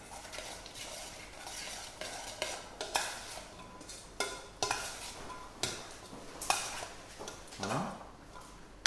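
Seasoned Bresse poultry being mixed with pepper and ras el hanout, a series of soft, irregular stirring and scraping clicks against a bowl, close and fairly quiet.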